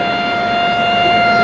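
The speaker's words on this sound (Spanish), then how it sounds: "La sirena de la prensa gráfica hace rato que está sonando" A steady, unwavering siren drones continuously during a shooting in El Salvador's war, a loud sustained tone with no breaks and a dense rumbling backdrop.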